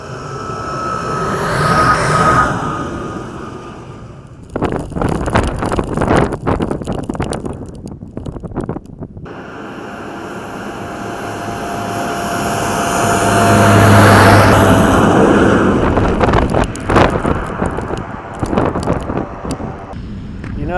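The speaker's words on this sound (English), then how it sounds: "Notice how quiet that air tractor is and how loud that thrush is." Two agricultural planes, an Air Tractor and a Thrush, pass overhead one after another, their engine roar swelling and fading over open ground, with the second pass louder and longer than the first.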